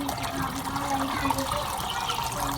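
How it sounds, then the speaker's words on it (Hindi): Cold water is poured over boiled macaroni in a continuous, even trickling stream, soft and close, with faint talk in the background. "थोड़ा सा ठंडा पानी ऊपर से डालेंगे।"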